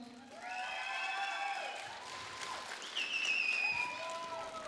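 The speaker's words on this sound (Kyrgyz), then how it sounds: "Эми кол чабууга салам." Audience applause rings out continuously at a dance performance, a steady wash of clapping under bright electronic music tones.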